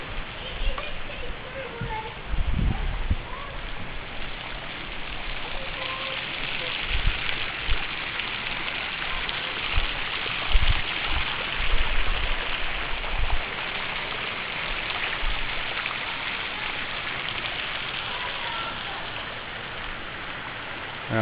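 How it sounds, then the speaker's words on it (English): A waterfall just above a bush track produces a continuous, even rush of falling water, with occasional low thumps and voices nearby. "Got a waterfall right above us."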